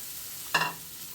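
Mashed raw jackfruit tipped into hot oil with fried rice grains, bursting into a sudden loud sizzle and a brief stir that settles into a steady frying hiss, with no talking.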